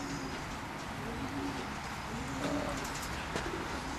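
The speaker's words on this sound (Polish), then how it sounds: "Piękny pocztowy gołąb. Tak powinny wyglądać pocztowe gołębie." Racing pigeons coo softly in a loft, with low murmuring calls repeating over a constant hiss of background noise.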